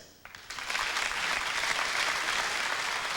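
A comedy festival audience breaks into applause, starting with a few scattered claps that quickly swell into full, sustained clapping from a large crowd.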